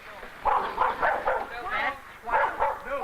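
Several dogs bark and yip in a run of repeated bursts on a college campus, loud and fairly near. The barking comes in clusters with brief gaps.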